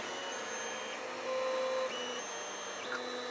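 A Creality CR-10S 3D printer resumes its print after a filament reset, its stepper motors humming in steady tones that shift pitch as the head moves, with a constant fan whir underneath and no talking.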